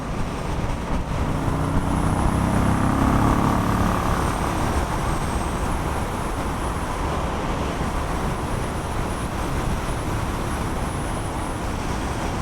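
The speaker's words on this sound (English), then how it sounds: "the bike I'm riding right now is a 1992 Suzuki VX800" A 1992 Suzuki VX800 motorcycle rides through traffic, its engine a steady low drone mixed with road and wind noise, its pitch rising briefly early on and then settling.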